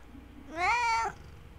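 A cat lets out a single clear, drawn-out meow of about half a second, close and loud against a quiet background with no talking.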